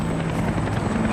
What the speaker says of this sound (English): we got a chopper following us